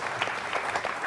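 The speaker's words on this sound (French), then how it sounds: "Je pense que ça s'applaudit, s'il vous plaît." Audience applause at a gathering honouring someone who started young, a brief burst of many hands clapping at moderate level, fairly even throughout and without talk over it.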